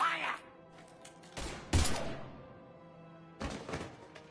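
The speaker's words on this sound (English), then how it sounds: "Now open fire!" Sci-fi gunfire from Mass Effect 3 rattles out in two short, harsh bursts, one near the middle and one at the end, over quieter game ambience and a faint background hum.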